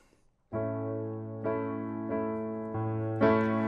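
Sustained piano chords ring out alone, struck in a steady rhythm with a few accented left-hand hits, the last one brighter and louder.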